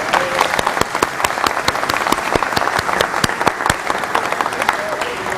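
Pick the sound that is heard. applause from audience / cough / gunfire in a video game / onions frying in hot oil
applause from audience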